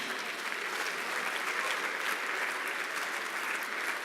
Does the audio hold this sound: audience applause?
yes